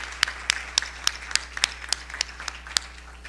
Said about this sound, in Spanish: Les pido un aplauso, por favor, para Jorge Luis Zapoteca